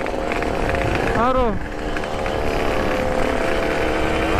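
A motorcycle engine held at high revs with the throttle kept open during roadside tuning, a loud continuous buzzing drone with a brief pitch swoop, while a man calls out over it.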